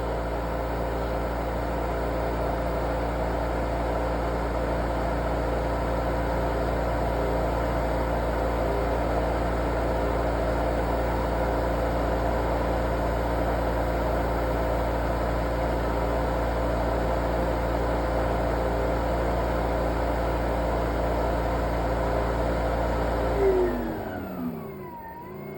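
A Hayward variable-speed pool pump motor priming, giving a loud, steady hum with a constant whine that runs unchanged for most of the clip before winding down with a falling tone near the end.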